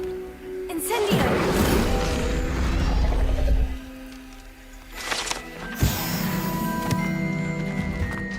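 A fire spell is cast in Hogwarts Legacy: a crackling, roaring whoosh swells for about three seconds, falls away, and is followed by a sharp magical burst with ringing tonal shimmer. A voice speaks over part of it.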